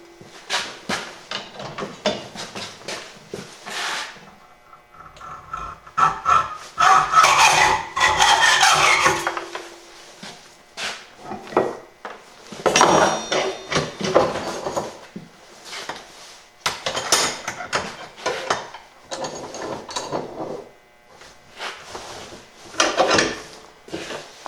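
Hand sawing through a metal fender support bracket for an old Honda quad, clamped in a bench vise, with bursts of rasping strokes separated by pauses, close and fairly loud with no talk.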